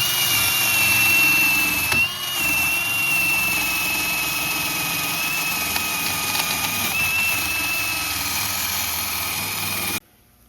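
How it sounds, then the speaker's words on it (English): A power tool, likely a wire wheel or drill, whines steadily while cleaning rust off the threads of a front sway bar link on a Ford Edge, a continuous high-pitched hum that cuts off abruptly near the end. "get in there and clean up this rust on the threads the best that I can"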